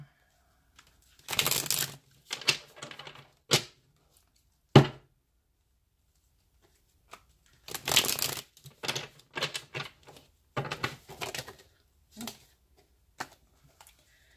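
Tarot cards are shuffled in several bursts of quick riffling and slapping, close up, separated by pauses of near silence.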